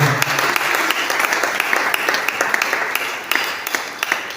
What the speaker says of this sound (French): Donne les acclamations au Seigneur